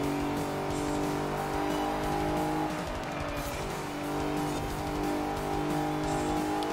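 Car racing on snow in Forza Horizon 4, a steady engine drone with sustained tonal whine and faint tire noise continuing throughout at even, moderate loudness, no talking.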